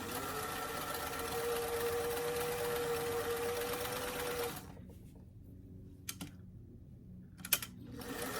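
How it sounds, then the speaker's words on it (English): A sewing machine zigzag stitching the raw sleeve edges of a doll t-shirt whirs steadily for several seconds, then falls quiet, leaving a few soft clicks and handling knocks. "I like to zigzag the raw edges of the sleeves"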